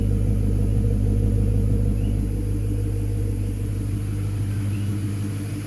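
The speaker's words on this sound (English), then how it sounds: "Get a little exhaust clip for you guys." A Hyundai Genesis engine idles steadily with a deep, continuous exhaust rumble and low drone, close and fairly loud, with no talking over it.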